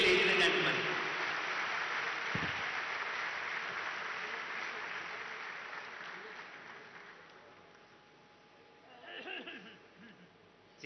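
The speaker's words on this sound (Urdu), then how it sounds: "بھرپور تالیاں چیف منسٹر صاحب کے لیے" Sustained applause from a crowd at a public event in honor of the chief minister, loud and steady at first, slowly fading, with a short swell of clapping and voices near the end.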